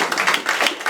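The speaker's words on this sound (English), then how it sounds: "Yes, that is worth clapping for." Audience applause at a book talk: a short, dense burst of many hands clapping, close and fairly loud, with no voices over it.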